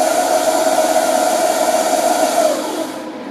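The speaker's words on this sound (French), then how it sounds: "la lame a tourné pour pouvoir mélanger en fait tout ce qu'il y a à l'intérieur de la cuve" Magimix Cook Expert blade spinning at the start of a velvety soup program, a steady loud whirring hum with a constant hiss that holds for about two and a half seconds and then winds down.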